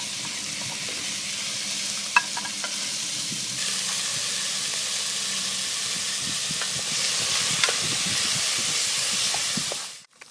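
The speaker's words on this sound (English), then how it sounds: "We're going to throw the bear meat in." Bear meat searing in hot rendered pork belly fat over a hot campfire, a loud steady sizzle and hiss with occasional stirring clatter, running continuously before cutting off abruptly at the end.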